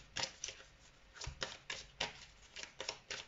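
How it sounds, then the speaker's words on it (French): Cards being drawn from a tarot-style deck, heard as a series of soft, close crisp slides and taps in an uneven rhythm, about a dozen strokes with no talking. "Je vais reprendre 3 cartes."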